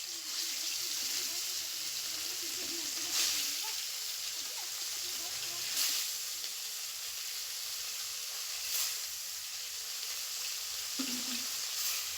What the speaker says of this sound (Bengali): এবার ওই তেলেই আমি মাছগুলো একটা একটা করে ভেজে নেব